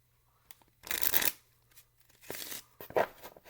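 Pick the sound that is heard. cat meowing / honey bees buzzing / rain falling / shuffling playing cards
shuffling playing cards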